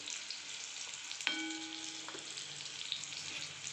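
Green chillies fry with a steady hiss in a pan, with a single sharp scrape of a spoon stirring them partway through; no voices, close and moderately loud throughout.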